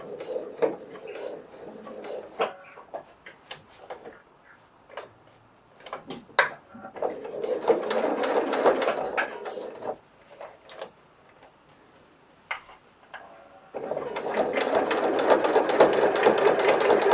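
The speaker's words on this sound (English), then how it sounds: "start stitching at the top and stitch all the way down to the bottom" A sewing machine stitches a glasses case from top to bottom in several bursts of fast rhythmic whirring, broken by pauses filled with clicks and handling taps, ending in a longer steady run.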